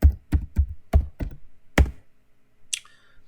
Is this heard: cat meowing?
no